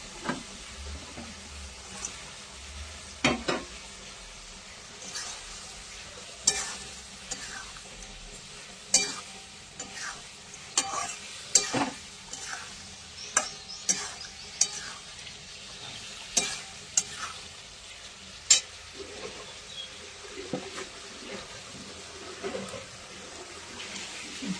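Fish sautéed in a pan sizzles steadily while a utensil stirs and scrapes in sharp, irregular knocks throughout, close and clear, with no talk.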